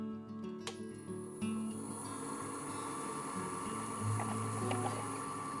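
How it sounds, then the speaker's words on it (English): A wood lathe starts up and runs steadily while turning a Christmas ornament, a sustained motor hum with a high whine that rises once the machine reaches speed, close by and without any talk. "So let's turn this lathe on and get started."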